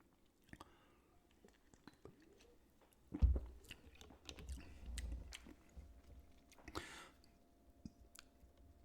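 Fritos corn chips being eaten up close, with soft crunching and chewing bursts around the middle of the clip among quiet clicks and mouth sounds.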